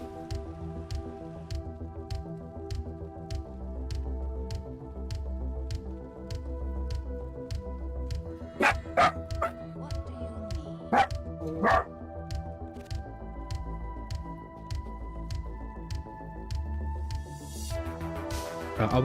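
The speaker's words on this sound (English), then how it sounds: "My dog going crazy." A dog barks in a few sharp, loud bursts that stand out above steady background music, with one bark and then a quick cluster of barks spread over several seconds.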